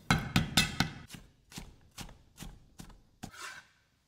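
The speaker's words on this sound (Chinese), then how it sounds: "准备几块生姜，拍散之后切成大颗粒备用。" A kitchen knife chops smashed ginger into coarse pieces on a board, about ten crisp, close chops in an uneven rhythm that fade out at the end, with no talk.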